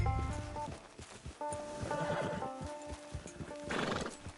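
In the video game Red Dead Redemption II, a horse whinnies clearly while hooves clip-clop at a steady walk, with a second neigh near the end, fairly close and fairly quiet.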